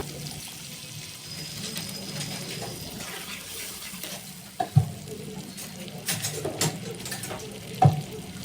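Onion-tomato gravy with chilli, coriander and amchur powder frying in a pan, a steady close sizzle with occasional louder stirring scrapes and clinks, with no voices.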